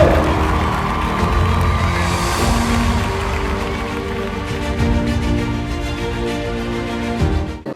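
An audience in a hall breaks into sustained applause mixed with crowd cheering, a dense, loud wash of clapping that holds steady for several seconds before cutting off abruptly.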